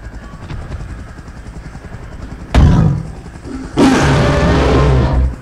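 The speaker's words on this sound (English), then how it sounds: "Okay, sounds like a chopper." Helicopter in the PUBG Mobile video game: loud, close rotor thumping and roaring engine noise swells in abruptly, drops back, then surges again and holds steady, with a sharp impact-like burst between and no talking.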